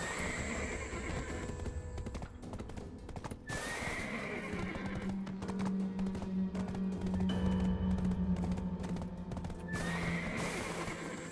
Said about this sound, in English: Can I get my horse up here?